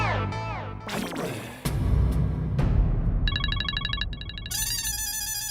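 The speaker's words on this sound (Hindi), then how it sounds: "फिर से पार्टी का फोन आ गया" A telephone rings with an incoming call in a Hindi sitcom home scene, its bright electronic ringtone trilling in repeated bursts after a few sharp clattering hits, loud and close with no voices.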